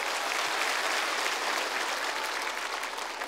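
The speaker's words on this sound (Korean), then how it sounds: "박수 보내세요." A dense, steady wave of audience applause at a Korean TV singing contest's year-end special, many hands clapping together evenly and fairly loudly with no talk over it.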